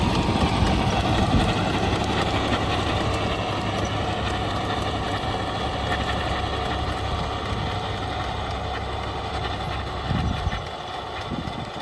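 A John Deere 5210 tractor drives a rotavator, its engine holding a steady, smooth, fairly quiet drone under load the whole way, with a brief bump in the noise near the end.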